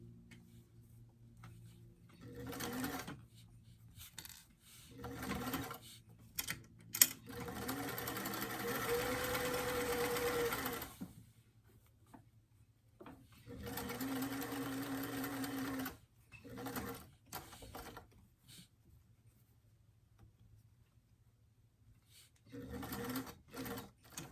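A sewing machine runs in several bursts while stitching the cuff of a doll top, its rapid mechanical chatter close by and separated by quiet pauses, with a voice speaking between runs.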